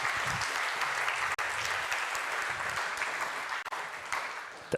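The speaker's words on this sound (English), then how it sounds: "Let's give a really warm round of applause to Tamas Sabo" Steady, dense applause from a conference audience greeting a speaker on stage, a continuous wash of clapping held at an even level throughout.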